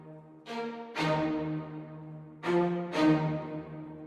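Dark plucked string sample pattern processed with reverb, halftime and stereo imaging, the low end cut; four slow, decaying notes ring out in pairs with long reverberant tails, no voices.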